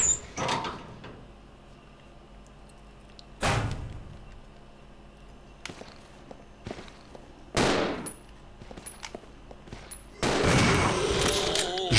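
Gunfire in the video game Resident Evil 0: a few sharp, loud shots, spaced several seconds apart, ring out over a quiet, low game ambience, with a longer, harsher burst near the end.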